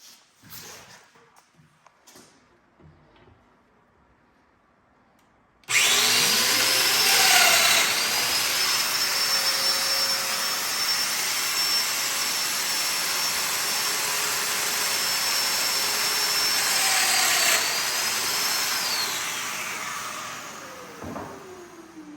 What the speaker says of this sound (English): now I'm going to take the domino cutter, cut a slot here, and cut a slot here